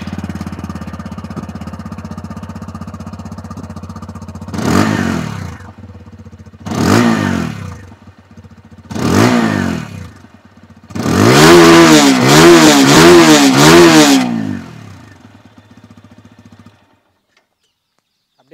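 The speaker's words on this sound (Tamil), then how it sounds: "ஸோ இந்த 2 வெஹிக்கிளில் எந்த எக்ஸாஸ்ட் நோட் நல்லா இருக்குன்றதை பார்ப்போம்." A TVS Apache RTR 160 2V motorcycle idles at close range, then its exhaust note rises in three separate throttle blips before a longer run of rapid repeated revs and a drop back, ending in silence.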